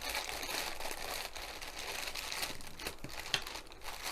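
A plain grey plastic mailing bag is opened at close range, giving continuous crinkling and crumpling with a few sharper tearing crackles. The sound carries on steadily, with no talking.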